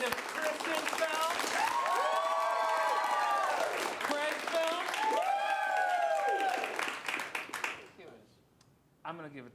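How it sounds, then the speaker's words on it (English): An audience at an improv comedy show bursts into sustained applause and cheering that fades out near the end, with a host talking over it. "let's start that applause"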